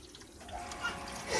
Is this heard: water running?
yes